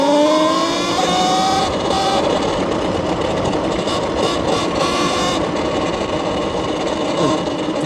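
A Talaria XXX electric dirt bike rides under throttle, its motor whine rising and falling in steady tonal sweeps over loud, constant wind and tyre rumble throughout.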